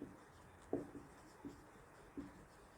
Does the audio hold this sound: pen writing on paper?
yes